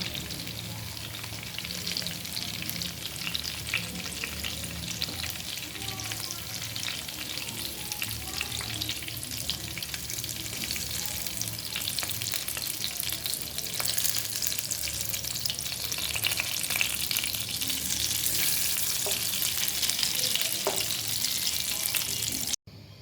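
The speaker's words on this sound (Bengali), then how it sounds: "একইভাবে আমি বাকি শাকগুলো ভেজে নিচ্ছি।" Leafy greens (saag) fry in a pan on a stove, a steady soft sizzle and crackle with the scrape of stirring now and then, heard close up and alone, growing slightly louder toward the end.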